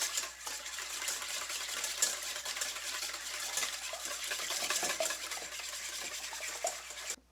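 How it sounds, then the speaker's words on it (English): A whisk stirs hot cream into a keto caramel mixture in a pot, giving quick, continuous scraping and clicking strokes, close and fairly quiet, with no talking. "Whisk, whisk, whisk."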